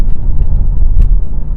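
A BMW M8 Competition accelerating hard, its engine a loud, close, deep rumble throughout with a brief sharp burst near the middle as it snaps through a gear change.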